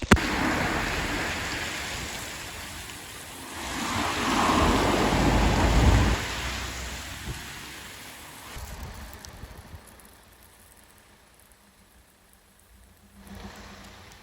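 Heavy rain pours outdoors in the Bogside area of Derry with a low rumble of thunder, loud for the first several seconds and then easing to a softer, steady patter.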